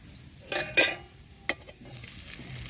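Asafoetida and five-spice seeds fry lightly in oil for samosa filling: a few sharp clatters of stirring against the pan, then a soft, growing sizzle.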